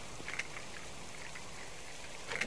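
Rain patters in the survival game Subsistence, a soft, steady wash of drops with a few brighter ticks near the start and end.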